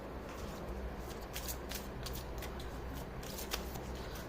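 A deck of cards being shuffled up close, a continuous soft papery riffling and flicking for several seconds with no voices.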